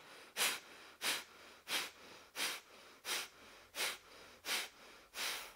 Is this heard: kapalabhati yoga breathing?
yes